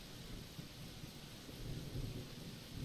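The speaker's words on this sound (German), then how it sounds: "Der Regen irgendwie ist immer sehr laut in dem Spiel." Steady rain hiss with low rumbling thunder in the video game Zero Sievert, a continuous dense wash that swells slightly toward the end, with no talk.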